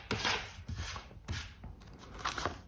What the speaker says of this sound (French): on va disposer les cartes et on les retournera